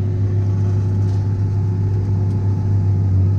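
A 300hp tractor engine runs at steady revs while the manure spreader floor is started, a loud, continuous low drone with a strong hum and no pauses or voices.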